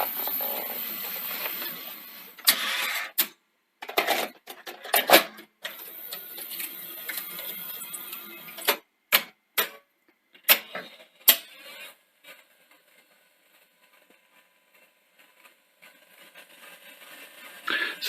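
A Toshiba V8600 Betamax video recorder running with a freshly replaced belt: bursts of close mechanical whirring and clunking, then sparser sharp clicks over a faint motor hum.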